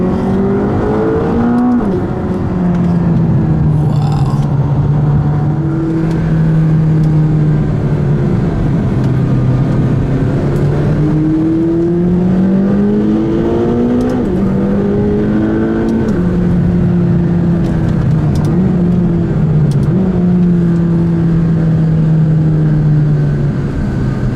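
A McLaren 570GT's engine climbs and falls in pitch as the car is driven up a volcano, with repeated revs and gear changes heard from inside the cabin. The engine sound is loud and steady throughout, with no talking.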